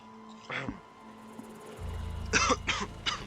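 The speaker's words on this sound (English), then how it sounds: "Sorry, got a bit of a cough." A few rough coughs break out, one early and a cluster of harsh bursts toward the end, over a low background hum.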